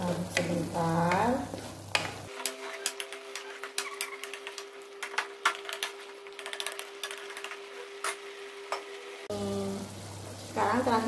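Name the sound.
stirring capcay vegetables with carrots in a pan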